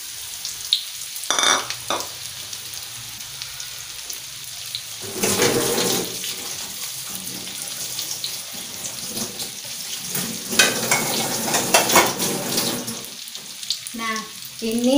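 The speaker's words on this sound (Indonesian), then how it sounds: "Kita masukkan dulu bawang bombaynya dan bawang putih" Sliced onion and garlic hit hot oil in a home kitchen pan, flaring into loud sizzling bursts that rise and fade amid stirring and clatter, with brief talk in between.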